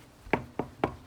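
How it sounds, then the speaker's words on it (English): Three firm knocks on a house door, evenly spaced about a quarter second apart, close and clear with no talking. "So now we're gonna knock on the door."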